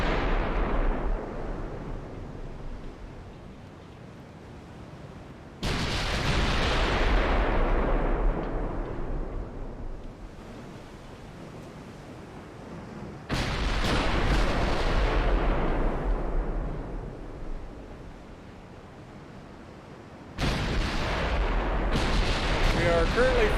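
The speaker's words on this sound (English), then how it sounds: "they're shooting SAP out of 15-inch guns" Booming salvos from 15-inch naval guns in the warship game Ultimate Admiral Dreadnoughts, three heavy blasts spaced several seconds apart, each followed by a long rumbling decay.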